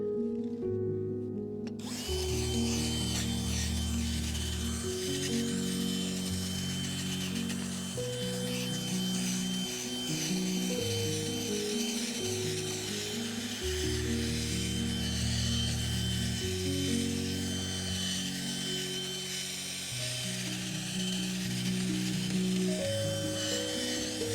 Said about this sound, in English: I'm going to use my auger again and go a little deeper.